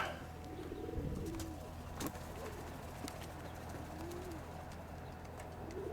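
Soft, low pigeon coos rise and fall a few times at close range, with light background noise and faint rustling.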